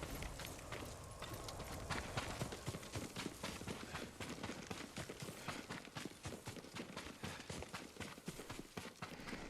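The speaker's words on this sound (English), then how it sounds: "Yuriko's horse. She can't be far." Horse hooves clip-clop steadily in Ghost of Tsushima, a dense run of rapid close thuds over a broad noisy ambience at moderate level, with no talk.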